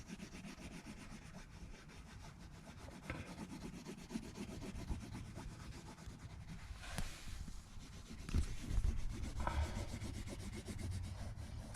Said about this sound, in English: You take this and you scrub it on the floor.